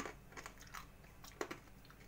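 A homemade oil-free fried pasta snack crunches in a few quiet, brittle bites with short crackly chewing between them, close and alone.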